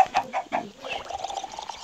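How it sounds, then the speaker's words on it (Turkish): Minecraft chickens on a small in-game chicken farm give a few short clucks in quick succession near the start, then fade into faint game background. "şurada da küçük bir tane tavuk farmım var"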